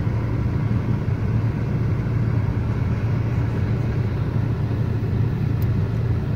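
A Skoda Superb mk1, not run in a long time, idles to warm up: a steady, even engine rumble with no other sounds around it.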